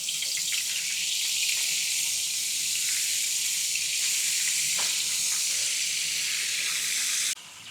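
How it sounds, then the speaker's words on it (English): Oil and butter sizzle in a pan as fish is prepared for Haitian stew, a steady, bright frying hiss that holds evenly for about seven seconds, then cuts off abruptly. "I'm just adding some oil in here. Also going to add some butter."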